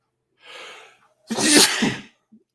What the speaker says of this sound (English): Now I think I'm going to sneeze.